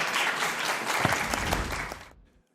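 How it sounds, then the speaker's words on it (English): Conference audience applauding steadily at a law conference, a dense wash of clapping that holds for about two seconds and then fades out. "And once again, I ask for your applause."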